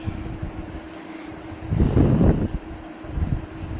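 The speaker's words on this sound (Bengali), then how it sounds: "ট্রেন ছেড়ে দিয়েছে" An overnight train pulls out and rolls along, a low rumbling rail noise with a steady hum and a louder surge of wheel clatter midway.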